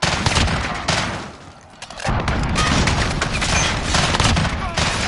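Cruise missile strike in Call of Duty: Modern Warfare multiplayer, a dense roaring barrage of blasts and gunfire that dips briefly before a heavy rumbling impact, with voices talking over it.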